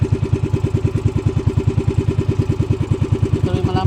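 A close-up motorcycle engine with a suspected CDI or carburetor fault idles in a fast, rough, pulsing chug. It holds an uneven throbbing rhythm throughout, with no voices.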